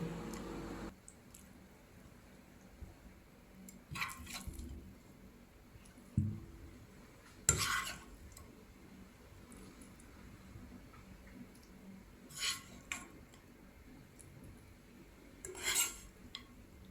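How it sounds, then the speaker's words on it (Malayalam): Chicken fry being moved from a pan into a serving dish, with a few sharp metallic scrapes and clinks of a spoon against cookware spaced over a quiet kitchen background. "ഞാൻ ഇതൊരു പാത്രത്തിലേക്ക് മാറ്റുന്നുണ്ട്"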